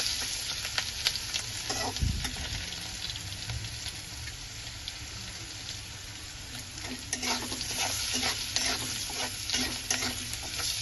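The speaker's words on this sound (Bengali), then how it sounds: "রসুন কটা দিলাম, একটু ফ্রাই করে নেব।" Chopped garlic fries in a pan for egg curry, a steady close sizzle broken by occasional scrape-and-stir strokes, with no voices.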